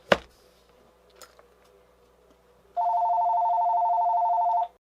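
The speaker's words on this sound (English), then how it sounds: "Sorry, that was the phone." A telephone rings once, a bright electronic trill lasting about two seconds after a quiet stretch with faint clicks and handling noises.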